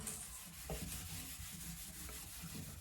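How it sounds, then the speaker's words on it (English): A wall surface is wiped clean before a handheld shower holder is mounted, heard as steady close rubbing and scrubbing strokes, soft and continuous with a few light knocks, no talk. "We're gonna clean the surface and then put the mount on there."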